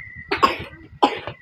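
Two short bursts of coughing from one person, close and fairly loud, separated by a brief pause, with a steady faint tone humming in the background.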